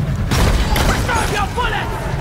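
A Detonator explodes in the Deep Rock Galactic video game, producing loud, rumbling booms and bursts close by, with voices talking over the blasts.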